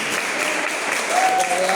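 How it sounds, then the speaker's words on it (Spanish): A church congregation applauds together in a steady, dense wash of clapping that holds evenly for the whole short stretch, with a faint voice rising briefly over it. "si quiere dar un aplauso al Señor"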